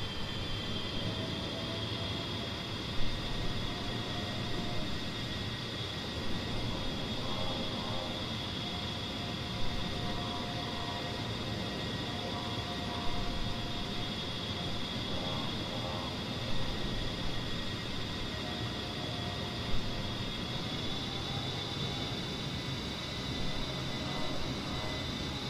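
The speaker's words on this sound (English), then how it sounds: "Now let's accelerate by advancing the throttles back to max." The twin jet engines of an A-10C in the DCS World flight simulator roar steadily at full throttle, a dense, unbroken rushing drone that stays loud and even from start to finish.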